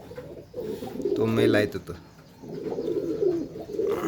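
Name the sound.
pigeons cooing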